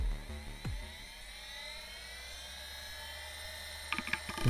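A hard disk drive powers up on a transplanted donor controller board, its whine rising steadily in pitch and settling into a smooth high spin, with a few faint clicks near the end.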